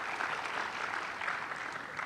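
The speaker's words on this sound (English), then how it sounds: "A big round of applause for our speakers." Audience applause for speakers at a high-level ASEAN climate policy seminar, a steady dense clapping from a crowd filling the hall for two seconds with no talk over it.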